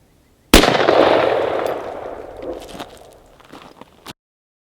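A rifle fitted with an EOTech EXPS2 holographic sight fires one sharp, loud shot that echoes and slowly fades outdoors. A second, fainter crack follows a few seconds later.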